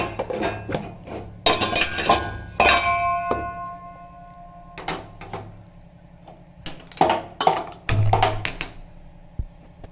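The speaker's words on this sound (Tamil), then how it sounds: "இதை இப்போது வச்சு மூடி வெயிட் போட்டுட்டேன்" A pressure cooker on the stove being shut and its weight set in place, heard as a series of sharp metallic clanks and clicks in bursts, close and fairly loud, with brief ringing tones between quieter pauses.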